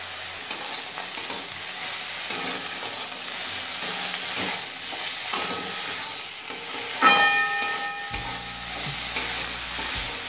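Mixed vegetables and drumstick flowers with salt and turmeric frying in a pan, a loud continuous sizzle and hiss broken by soft stirring scrapes, then a low rumble joining near the end.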